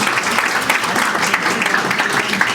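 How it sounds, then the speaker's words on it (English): A crowd at a school alumni of distinction event breaks into loud, dense applause, steady and close throughout the short stretch. "So another huge round of applause."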